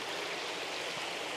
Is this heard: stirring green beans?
no